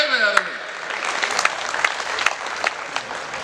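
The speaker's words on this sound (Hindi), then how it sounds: "जोरदार ताली बजा दो।" An audience at a Hindi poetry recital in Jaipur breaks into loud, dense clapping that carries on steadily throughout, with a voice audible at the start.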